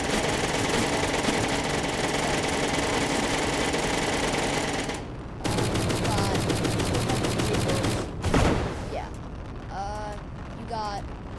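An autocannon fires in a war tank video game, a fast rattling burst that runs for several seconds, breaks off, then comes back with a sharp blast before fading under other game sounds.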